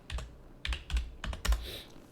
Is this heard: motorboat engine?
no